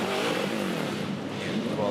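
Supercars touring car on a wet track at the 2024 Repco Supercars Championship, engine roaring loudly past with a steady mechanical drone and spray hiss, a commentator's voice running over it.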